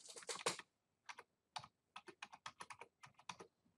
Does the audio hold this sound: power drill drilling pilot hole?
no